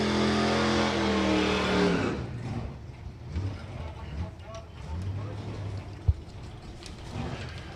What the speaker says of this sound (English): Dan Reynolds with the Corvette going up alongside the Camaro